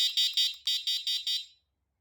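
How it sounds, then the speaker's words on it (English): The turn signal beeper on a Leoout T88 electric scooter gives six quick, shrill electronic beeps in a steady even rhythm, heard close and clear against silence before it cuts off. "The turn signal has a beeper to remind you that it's on."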